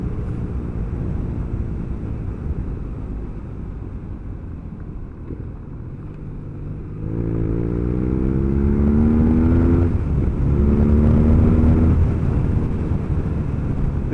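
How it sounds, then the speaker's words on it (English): BMW R nineT Urban GS motorcycle being ridden along an old wartime runway, steady engine drone with wind rush that swells as the bike accelerates and revs rise through the gears, close and continuous. "This really is a good fun bike to ride though."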